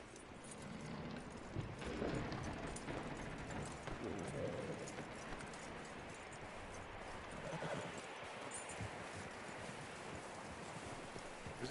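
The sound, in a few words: horse hooves and whinny in the video game Red Dead Redemption 2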